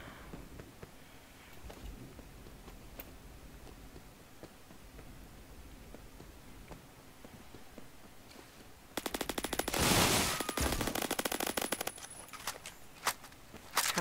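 A machine gun with heavy recoil fires in the ReBlIx video game as a loud, rapid sustained burst after quieter scattered game sounds, then a few trailing shots near the end.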